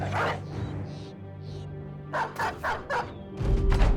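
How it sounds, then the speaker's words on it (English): A dog unleashed in Battle Brothers, a turn-based medieval mercenary game, gives several short, sharp barks and yips in quick bursts over game music, ending in a louder final flurry. "I think we release the dog now. We need the dog."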